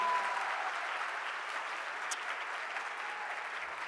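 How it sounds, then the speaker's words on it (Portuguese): A church congregation claps together in a sustained, even burst of applause, steady and fairly distant with a broad wash of many hands, no words heard. "mais forte essas palmas a Jesus"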